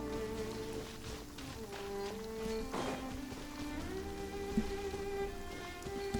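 Steady rain falls in the video game Genshin Impact, a soft continuous patter beneath sustained background music tones.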